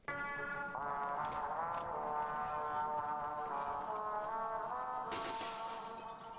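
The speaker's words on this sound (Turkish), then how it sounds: "Camı kırdık girdik içeriye." Glass shatters in the horror video game Poppy Playtime Chapter 2, a bright crash near the end cutting over a sustained low droning tone from the game's ambience.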